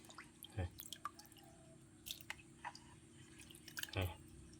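Wild wood-boring beetle grubs being rinsed in water, with scattered small drips, splashes and wet squishes at close range and two slightly louder splashes standing out.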